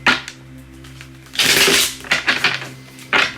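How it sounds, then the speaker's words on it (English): Cards riffle and slap together in several short bursts, with quieter handling noises between them and no talking. "the deck really does not want to shuffle"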